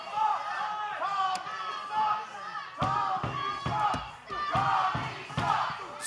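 A wrestling crowd at an OVW TV event chants in rhythmic, repeated bursts, with slams and thuds from ring action punctuating the noise and a commentator talking over it.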